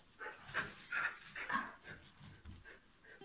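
A dog pants in quick, rhythmic breaths broken by soft, high whimpers, close but fairly quiet, with no talking over it.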